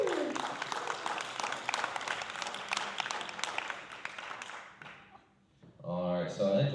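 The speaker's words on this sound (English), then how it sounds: "Give a round of applause." An audience at a Miss Haskell pageant applauds as the candidates come out, with brisk, fairly close clapping that fades away, followed by a brief voice afterward.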